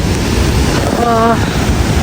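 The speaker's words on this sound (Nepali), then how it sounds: "ठ्याक्क खोलाको आवाज आउने" The Langtang river rushing beside a lodge at Bamboo, a steady loud broadband roar of flowing water filling the whole moment, with a brief faint tone briefly over it.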